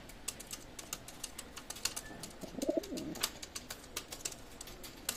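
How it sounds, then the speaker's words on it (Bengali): Soft cooing of Lalpari pigeons in a short burst near the middle, over a steady background of irregular tapping clicks and faint rustle. "লালপাড়ি এটা মায়া কবুতর"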